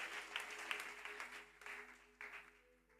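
A church congregation claps together in steady, quiet applause that keeps going for a few seconds, heard from a distance with some faint tonal hum underneath.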